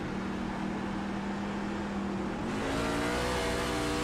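A sim racing pickup truck at Richmond Raceway, troubled by a gearbox issue, drones at steady engine pitch, then drops a gear and revs up sharply in a rising whine, heard close and fairly loud.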